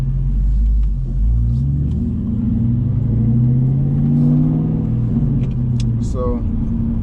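A Ford Mustang GT's engine rumbles low and steady while driving, with a brief rising rev near the end, and someone talks over the drone throughout.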